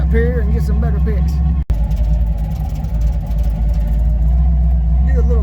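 A vehicle engine drones steadily at close range as it drives over an old stone arch bridge, a low, even rumble with someone talking over it.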